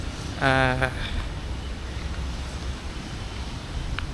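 Strong wind buffeting an outdoor microphone with a low, continuous rumble, briefly overlapped by a short spoken word near the start and steady afterward.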